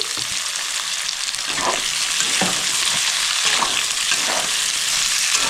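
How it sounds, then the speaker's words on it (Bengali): Onion and green chilli stir-frying in a hot pan over a high gas flame for chilli chicken: a loud, constant, crackling sizzle with occasional scraping stirs and no talking. "একটু মিক্স করে পেঁয়াজটাও দিয়ে দিচ্ছি। কাঁচা লঙ্কাটাও দিয়ে দিচ্ছি।"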